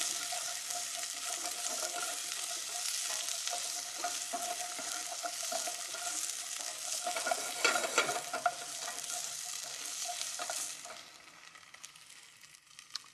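Garlic and tomato paste sizzle and fry steadily in a pan, a continuous close hiss with light stirring scrapes, easing off near the end.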